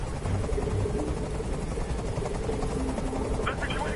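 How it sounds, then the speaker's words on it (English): A steady helicopter rotor drone from the video game Detroit: Become Human, loud and continuous with a brief voice near the end. "I can't stand that noise anymore. Tell that helicopter to get out of here."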